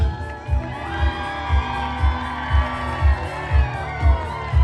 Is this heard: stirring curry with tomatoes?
no